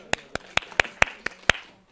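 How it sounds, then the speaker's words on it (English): Seven sharp, separate hand claps, evenly spaced and close, from a small audience in a university database lecture hall, with nothing else heard. "Round of applause for DJ Bushu"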